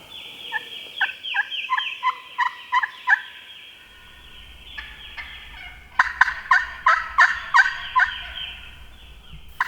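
Wild turkeys gobbling hard at Kudzu Bluff in Mississippi during a spring hunt, repeated loud rattling gobble bursts in quick series, with a pause and then another close, strong run of gobbles over faint outdoor background.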